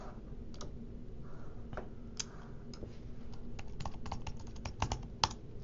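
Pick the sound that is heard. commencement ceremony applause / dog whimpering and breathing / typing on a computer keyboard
typing on a computer keyboard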